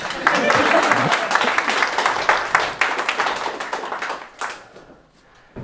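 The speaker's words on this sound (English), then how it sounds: "Can we have a massive round of applause for a subject very close to my heart?" Audience in a talk venue gives a big round of applause, dense clapping that gradually thins out and fades to near quiet by the end.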